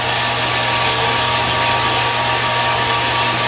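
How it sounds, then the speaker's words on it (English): A milling machine cuts cast metal stock down to size for a lathe tailstock part in a smithy workshop. The machining is a loud, steady, unbroken grinding whir with an even hum underneath. "we're going to mill it to size."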